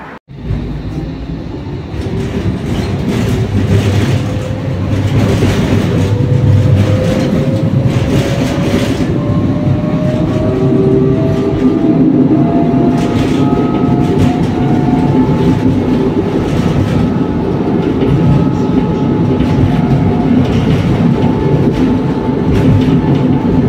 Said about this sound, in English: So waiting for the tram.